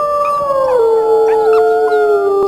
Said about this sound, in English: So let's go ahead and howl.